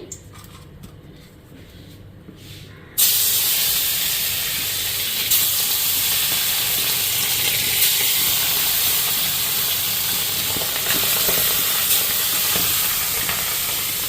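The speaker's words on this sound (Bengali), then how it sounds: "তো এখন মাছগুলি আগে ভাইজা নিই।" Fish frying in hot oil in a wok, a loud, steady broadband sizzle and hiss that bursts in suddenly after a few quiet seconds and carries on without pause.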